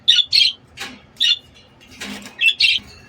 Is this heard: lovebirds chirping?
yes